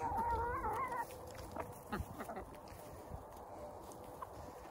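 Cross-bred meat chickens out on fresh pasture cluck and chirp nearby, with a brief louder call at the start, while someone talks over them.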